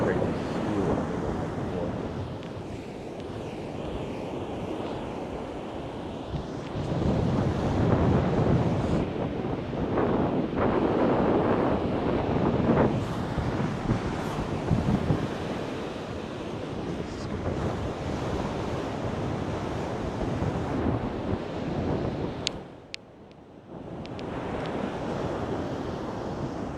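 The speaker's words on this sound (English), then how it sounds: "It is pretty windy." Strong wind buffets the microphone at a beach at sunrise, a loud, gusty rumble over the wash of surf, rising and falling with a brief dip near the end.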